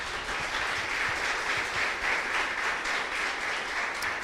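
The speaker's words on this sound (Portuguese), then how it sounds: "Você pode aplaudir Jesus?" Steady crowd applause at a church service, many hands clapping at once in a dense, even roar that holds for a few seconds without letting up.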